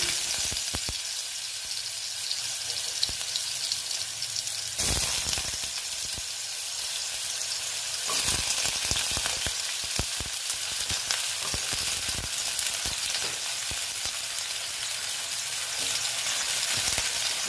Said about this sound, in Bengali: আলুগুলো আমি একটু একটু ভেজে নেব